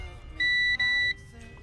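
A multimeter gives a continuity beep, a high electronic tone that sounds in two close pulses with a brief break between them. The beep is clear and near and stands out over a low background hum.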